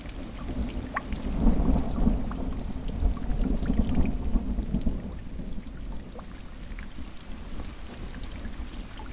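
Rain falls steadily with deep rolling thunder rumbling through the first half, then easing to a continuous hiss of rainfall with no voices.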